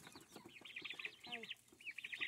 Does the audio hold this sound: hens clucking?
yes